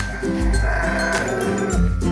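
Sheep bleating at a ram contest show in Pleret, Bantul, with loud, steady crowd and PA noise throughout and repeated bleat-like tonal calls layered over the din.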